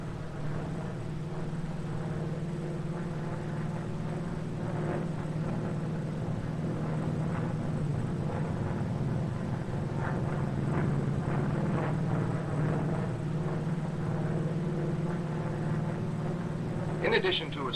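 A steady, even drone from a Grumman F8F-1B Bearcat piston-engine fighter runs the whole time at moderate level, with someone narrating over it.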